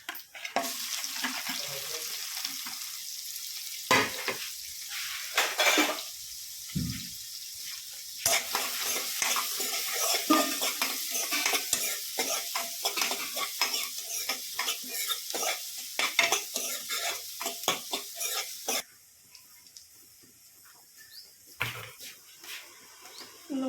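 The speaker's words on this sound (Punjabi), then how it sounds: "ਰਾਈ ਨਾਲ ਹੀ ਪਾਵਾਂਗੇ ਜੀਰਾ ਤੇ ਨਾਲ ਹੀ ਪਾ ਦਾਂਗੇ ਪਿਆਜ਼" Mustard seeds, cumin and onion fry in a pan with a steady loud sizzle, and a spoon stirs and scrapes in uneven bursts. The sizzle drops to a quieter hiss near the end.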